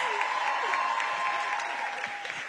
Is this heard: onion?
no